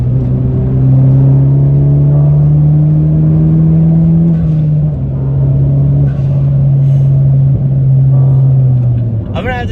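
A 10th-gen Honda Civic Si fitted with a PRL catless downpipe and front pipe idles loudly and holds a steady raspy drone, close and dominant, with speech faintly over it.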